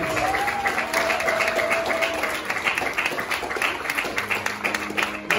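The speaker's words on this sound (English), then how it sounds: "Can we give ourselves a big round of applause, please?" Guests at an 18th birthday celebration applaud together, a dense, sustained round of clapping that carries steadily from start to finish.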